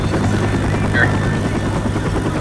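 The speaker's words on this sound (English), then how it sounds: "Helicopter." A helicopter in the video game Left 4 Dead 2 gives a loud, steady rotor drone that fills the whole moment without a break.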